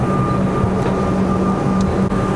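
A commuter train waits at a Melbourne station platform at rush hour, its steady loud hum and rumble filling the scene with faint brief squeaks, no voices.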